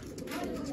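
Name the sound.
homing pigeons cooing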